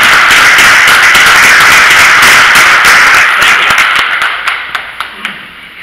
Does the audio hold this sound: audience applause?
yes